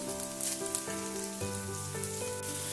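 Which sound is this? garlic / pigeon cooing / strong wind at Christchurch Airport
garlic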